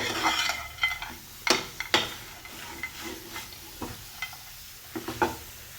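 Spinach and coriander stir-fried over a high flame, with a soft steady sizzle broken by irregular scraping and clattering stirring strokes close by; no talking.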